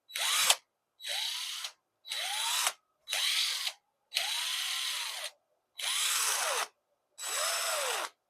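A power drill drives screws into the plywood countertop of an L-shaped 2x4 workbench in seven close, loud bursts of roughly half a second each, separated by short pauses, with no voices.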